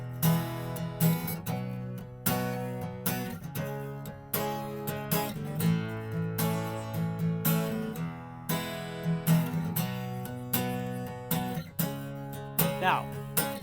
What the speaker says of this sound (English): Now this chord progression is going to sound like this.